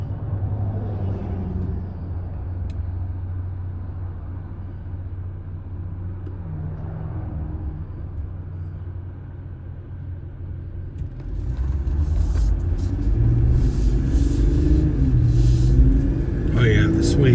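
Main road traffic passing a vehicle, a low rumbling wash of cars that swells louder near the end as the drive picks up, with voices talking over it.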